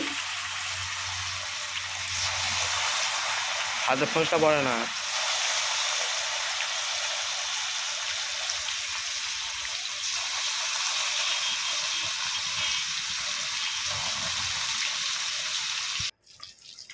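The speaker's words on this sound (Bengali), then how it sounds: "উল্টে পাল্টে মাছগুলো ভাজা হচ্ছে" Fish frying in oil in a pan, a steady loud sizzle that runs almost unbroken under a brief spoken phrase and cuts off near the end.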